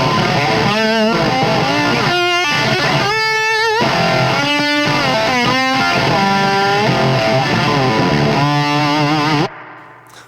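Distorted electric guitar through a pedal plays a series of chords and bends, thick with effect and a washy spring reverb tail, before cutting off abruptly near the end.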